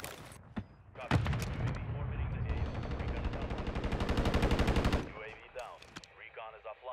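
Rapid automatic gunfire in the shooter game Modern Warfare 3: a long, steady machine-gun burst that builds for several seconds and then cuts off, with a few isolated shots around it and players talking over it.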